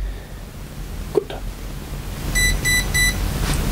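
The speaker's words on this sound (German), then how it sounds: "es piepst wie immer die Modellbauregler drin" Electronic speed controller inside a Bruder RC 10x6 five-axle Mercedes Actros truck conversion beeps three times in a quick, even series of short, clear tones, heard close over a quiet background hum.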